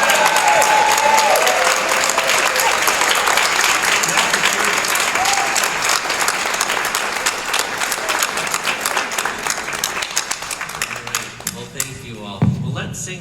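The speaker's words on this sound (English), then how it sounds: "Please give a big hand." A concert audience applauds after an introduction at a spring choir concert, a broad, sustained wash of many hands clapping that slowly thins and tapers toward the end, with a few voices and cheers mixed in.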